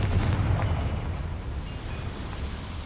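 A Confringo blasting spell explodes in Hogwarts Legacy, a dense booming burst with a heavy low rumble that stays loud across the whole stretch without easing off.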